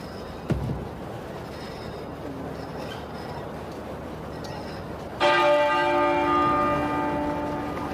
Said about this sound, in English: The great tenor bell of the Abbey is tolling.